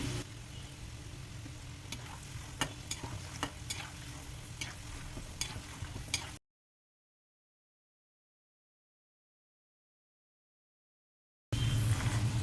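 Steady crackling sizzle of peanuts frying in hot oil, with occasional sharp pops and stirring scrapes, then a long silence before the sizzle resumes.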